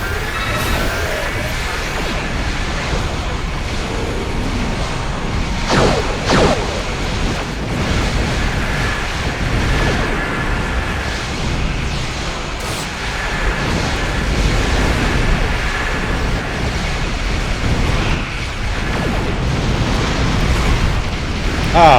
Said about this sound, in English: Gotta watch out with those explosions.